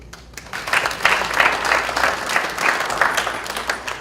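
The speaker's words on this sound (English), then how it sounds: "So I'm here to applaud Carolyn and to give her my support, and hope you guys do likewise." Audience at a discussion panel breaks into sustained applause, a dense, steady patter of many hands clapping that swells and holds throughout without any speech over it.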